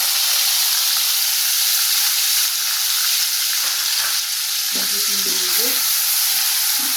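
Ginger-garlic paste fries in hot oil with cinnamon and cloves for a Kerala soya chunk curry, making a loud, constant close-up hiss and sizzle with a brief faint tonal whine near the end.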